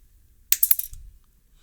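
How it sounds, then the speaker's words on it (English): The barrel end of a guitar string is snipped off just past the winding with cutters, making a quick close burst of sharp metallic clicks and snaps in an otherwise quiet room. "take the barrel of this string and we got to cut it off"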